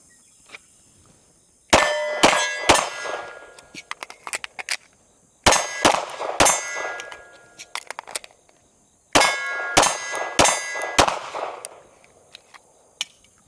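Gunfire hitting steel targets at a private shooting range, three bursts of sharp shots, each followed by loud ringing clangs that decay, separated by quiet pauses.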